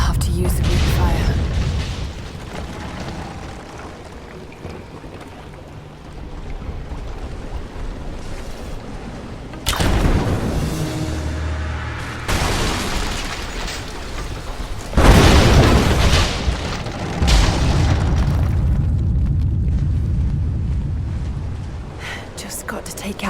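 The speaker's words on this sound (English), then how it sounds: "Looks like I'll have to use the Greek fire." Greek fire explosions toppling an unstable statue in Rise of the Tomb Raider, with several heavy booms and crashing debris rumbles spaced across the scene over game ambience and occasional speech.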